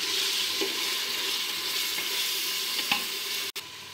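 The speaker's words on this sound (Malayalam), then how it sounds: "ഇതിൻ്റെ പച്ച മണം മാറുന്നത് വരെ ഇതൊന്ന് ഇളക്കി കൊടുക്കാം." Ginger garlic paste fries in a pan for kabsa rice as it is stirred, a constant close sizzle broken by a few soft scraping strokes and one sharp click near the end.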